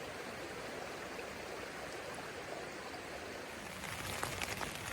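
Rain falls steadily on a tent at a remote backpacking camp in Pennsylvania, a dense, even patter with no breaks. It grows a little heavier near the end, with no one speaking.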